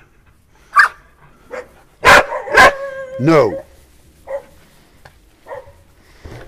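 Several sharp dog barks ring out close by at a donkey sanctuary in rural Mexico, spaced irregularly, with a short whine between them and a person speaking briefly.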